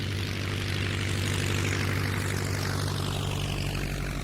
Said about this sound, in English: The planes with the penguins inside took off.